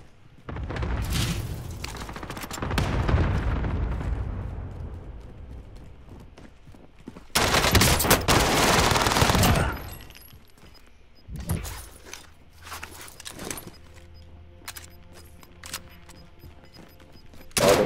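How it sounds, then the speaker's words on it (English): Gunfire in a gunfight within a video game, with bursts of shots and booming impacts, loudest in a dense cluster midway, then scattered sharper reports toward the end. "He's in a gunfight."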